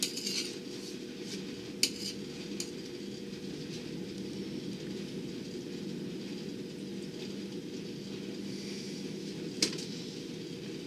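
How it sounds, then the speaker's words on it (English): Eggs being turned in a pan while breakfast burritos are made, mostly a low steady background with a few sharp metallic clinks of a utensil against the pan. "We turn up our eggs."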